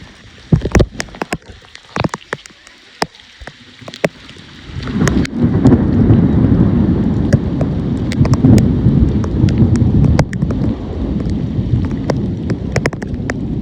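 Scattered sharp taps and drips give way to a deep, steady roar of a waterfall in flood that swells and stays loud, with no one speaking.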